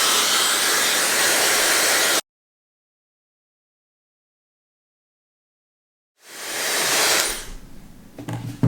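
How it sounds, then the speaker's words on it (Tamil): A handheld hair dryer blowing on thin hair: a loud, steady airy roar for about two seconds, abrupt silence for four seconds, then it starts again and ramps up with some handling bumps. "இப்போ நான் ஹேர் ட்ரை பண்ணி முடிச்சிட்டேன்."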